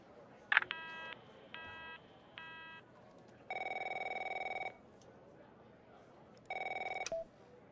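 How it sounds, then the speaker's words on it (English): A telephone rings in a video game: a sharp click, then three short electronic trills, followed by two longer, louder rings separated by a pause, all fairly quiet against a faint background. "My phone's ringing off the hook here."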